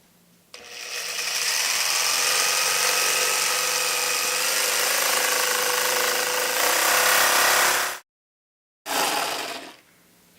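Power saw cutting through a plexiglass sheet, a loud continuous buzzing whine close by that runs for several seconds, cuts out briefly, then starts again, with no voices.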